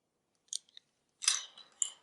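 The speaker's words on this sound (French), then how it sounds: "une paire de ciseaux" A pair of scissors handled at close range: faint clicks, then a couple of brief snipping and rustling sounds against near silence.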